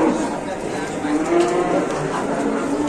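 A large cow gives a long, low, drawn-out moo that carries steadily through the whole moment, loud and near against background noise.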